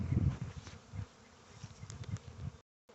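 A swarm of honeybees buzzing close by, a dense, fluttering hum with individual bees passing near, fairly quiet and steady before cutting off abruptly near the end.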